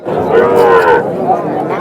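A single long, loud moo from a nearby cow at a weekly cattle and calf market, rising then fading, with faint background bustle.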